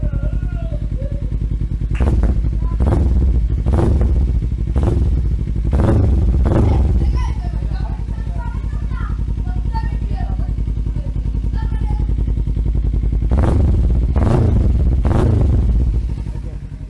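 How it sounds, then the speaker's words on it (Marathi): A Kawasaki Ninja motorcycle engine idles steadily and loudly after a cold start, rising in a few revving bursts, with people talking throughout. "बाईक पूर्णपणे कोल्ड स्टार्ट झाली आहे. आता आवाज येतो."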